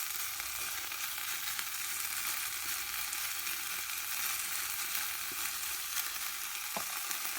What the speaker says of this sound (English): do you hear all that sizzling?